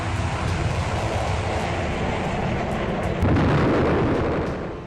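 Booming explosions from wartime attacks on the Russian city of Kursk by Ukrainian forces, a dense continuous roar with no distinct separate blasts, swelling louder in the final seconds.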